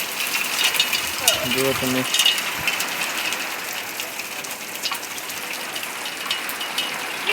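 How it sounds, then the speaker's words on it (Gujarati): Heavy rain pours during a sudden storm, a steady dense hiss filling the whole stretch, with a brief mechanical rattle early on and a voice speaking over it. "અત્યારે જબરજસ્ત વરસાદ ચાલુ થઈ ગયો છે"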